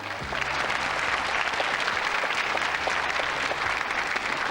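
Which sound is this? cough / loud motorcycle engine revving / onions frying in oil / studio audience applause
studio audience applause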